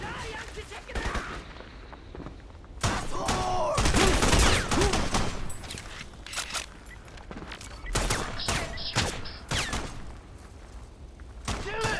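Rapid gunfire bursts and single shots in the video game Crysis, loud and clustered, with heavy booming volleys in the middle and scattered shots toward the end.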